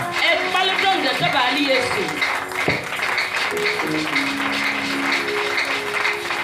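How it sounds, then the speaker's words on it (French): A church congregation applauds and acclaims Jesus during an evening preaching service, with a dense, continuous wash of clapping and cheering under a loud preacher's voice. "Acclame très puissamment Jésus."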